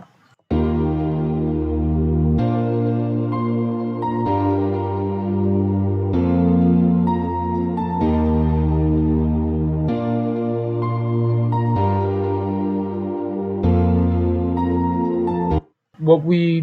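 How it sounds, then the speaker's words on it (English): Sustained synth pads carry a chord progression with sparkling ear-candy effects on top, chords changing roughly every two seconds before a brief cut near the end. "They also sound like this with the chord progression and the ear candy."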